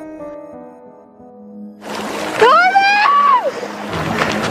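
A person jumps into a river in the horror film Dark Nature: a sudden broad splash of water under film music, followed by a voice crying out in rising and falling tones.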